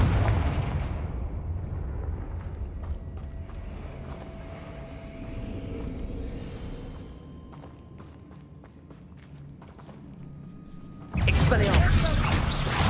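Confringo blasting spell explosion in Hogwarts Legacy, a sudden loud blast near the end following a stretch of low combat rumble, scattered impacts and footsteps; a voice speaks during the clip.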